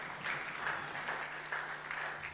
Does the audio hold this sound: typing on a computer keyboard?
no